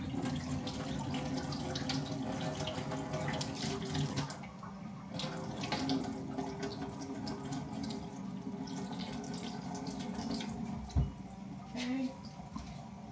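Tap water runs into a kitchen sink while rice is rinsed, a steady close splash with brief clinks and sloshes, and a voice talks over it throughout.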